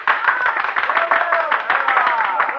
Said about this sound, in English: Then applause drew me from my unhappy revel